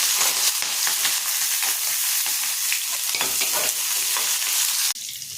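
Chopped onion and green chili with urad dal fry in hot oil in a kadai for coriander chutney, a loud continuous sizzle broken by scraping stir strokes, ending abruptly.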